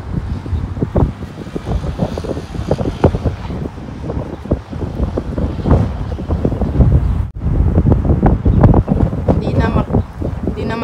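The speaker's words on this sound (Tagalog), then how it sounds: "Ang lakas ng hangin." Strong wind gusting on a rainy, overcast afternoon outdoors, a loud continuous roar and buffeting across the microphone with rumbling low-end surges, steady throughout with a brief dip partway.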